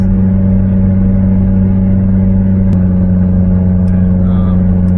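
Tuned 622whp Mitsubishi Lancer Evolution X accelerating hard: a loud, steady droning engine roar heard from inside the car, continuous throughout with a sharp click partway.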